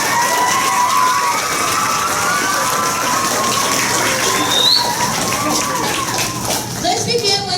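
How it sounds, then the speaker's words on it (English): A crowd claps steadily for student performers of a Lilly's Purple Plastic Purse stage reading, a loud, continuous patter of applause with a voice faintly heard over it. "So let's give them a round of applause for that"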